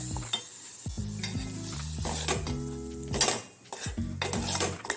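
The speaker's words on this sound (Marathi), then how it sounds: "कढीपत्ता आणि राईची फोडणी करून हे वाटणात मिक्स केलेलं आहे" Mustard seeds and curry leaves crackle as a hot tempering is stirred into a ground chutney paste, with metal spoon scrapes and pan clatter in short bursts, close and fairly loud.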